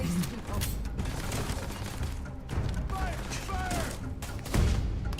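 Gunfire in the space game Starfield, several loud sharp shots and bursts over dense mechanical clatter and scattered combat noise, with a voice speaking in between.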